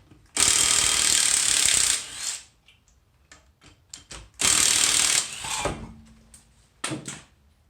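On an MK4 Volkswagen, lug nuts come off a wheel with a ratchet: two long bursts of fast, harsh metallic clicking, with scattered clanks, taps and handling noises between them at close range.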